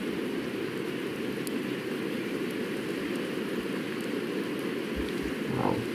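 Steady rain falls in the survival video game Project Zomboid, a dense, even hiss that continues throughout with no talking, and a couple of faint low thumps near the end.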